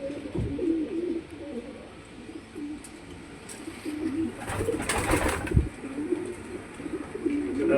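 Pigeons coo softly in low repeated throaty calls, fairly close, over a faint background with a burst of rustling noise midway.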